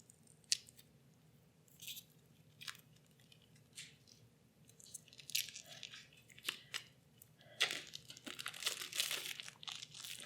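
Crinkling, crunching plastic wrap being torn open around a pack of cards from the Machina Arcana Premium 2nd Edition board game, with scattered sharp crackles that grow busier and denser toward the end, close and fairly quiet.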